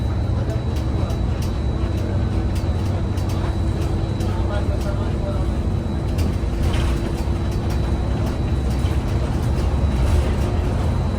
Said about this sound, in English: So here's what the bus journey looks like.